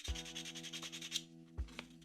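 A 3D-printed PLA part is sanded by hand in quick, close rubbing strokes, a rhythmic scratchy rasp that repeats several times before stopping, with a few brief knocks.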